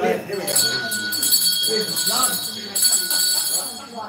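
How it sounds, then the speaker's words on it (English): A bell rung to open a Fitz clan gathering, its bright sustained ringing carrying through the whole stretch while people talk over it. "that's the way we would normally start, with a bell, right?"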